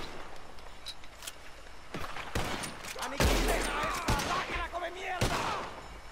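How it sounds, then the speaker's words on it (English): Gunfire in a Red Dead Redemption 2 shootout, a scattered exchange of distant and nearer shots with sharp cracks and rolling echoes across several seconds, mixed with game ambience and faint voices. "I have no clue where they're even shooting."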